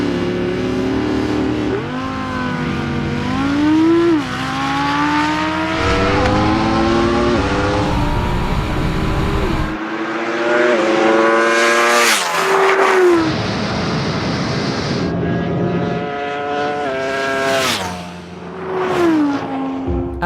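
An Audi R8 and a Ducati Panigale V4 launch hard from a standstill, loud rising engine roars climbing through gears with sharp shift drops, the high-pitched revving screams repeating close and powerful.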